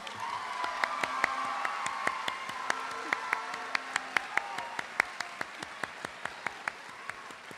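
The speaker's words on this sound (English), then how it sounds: "Let's give them all a round of applause." Audience applause fills a graduation commencement ceremony, a steady wash of many hands clapping with sharp individual claps standing out and faint cheers, fading gradually over several seconds.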